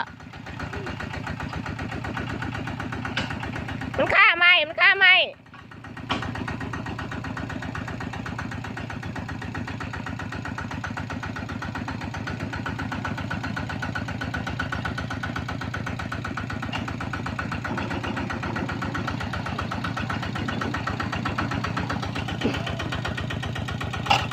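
A Thai e-taek farm tractor vehicle runs steadily with a continuous low, throbbing engine drone that stays even and close throughout, broken only by a brief chirping burst near the start.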